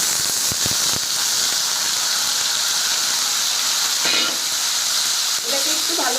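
Chopped potatoes frying with panch phoron in a pan, a loud, steady sizzle close up, with scraping stir strokes and a few crackles on top.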